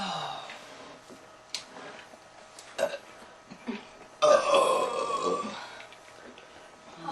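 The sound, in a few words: loud burping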